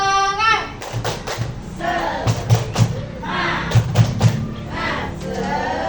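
A group at a school teacher workshop claps a rhythmic spirit clap, clusters of sharp hand claps in a patterned beat mixed with excited voices and shouts from the room.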